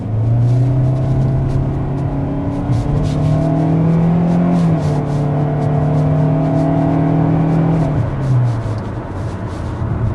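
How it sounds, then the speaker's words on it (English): A 2024 Kia Soul accelerating up to speed, heard from inside as a loud steady engine drone whose pitch climbs, drops at a gear change, climbs again and falls away near the end, with road rumble beneath. "it's going to be good enough to get this vehicle up to speed in a reasonable fashion"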